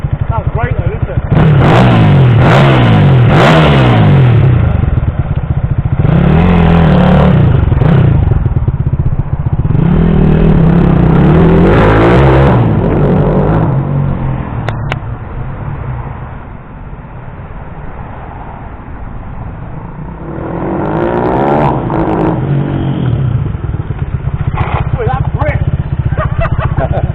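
A Kawasaki KSR 110 minibike set up as a gag bike revs hard in repeated loud bursts, drops to a lower idle for a few seconds, then revs up again. It is close and raw-sounding.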